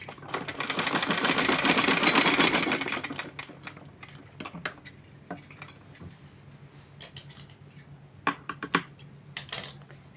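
Sewing machine stitching the side edge of a cotton outfit, a steady whirring run of a few seconds, followed by light scattered clicks and taps.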